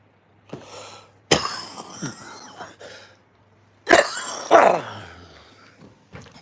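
Several harsh coughs in two bursts, close and fairly loud, with brief quiet gaps between them.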